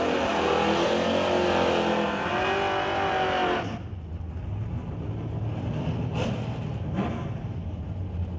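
Drag race cars, a Chevy and a Dodge Dart in an ET series bracket race, roar loud and close with high engine harmonics for several seconds, then the scream cuts away and the pass fades into a distant rumble with faint bursts.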